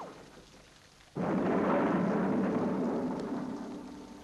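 After a quiet moment, a sudden loud thunderclap breaks into a long rumbling roar with a rushing rain-like wash that slowly fades.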